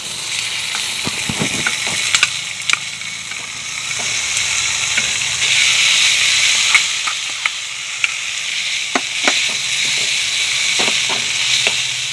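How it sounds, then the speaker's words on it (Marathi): Khoa milk solids roasting in ghee in a wok, a steady soft sizzle with repeated scraping clicks of a spatula stirring against the pan, close and alone without talk. "आता आपण कढईमध्ये थोडे तूप घालून खवा परतून घेऊ"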